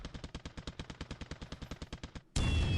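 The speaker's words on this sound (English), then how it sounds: "Oh, these are torpedoes," Torpedoes in a naval battle video game: a rapid, even train of about twenty sharp reports, steady and fairly loud, followed by a sudden dense roar of impact noise.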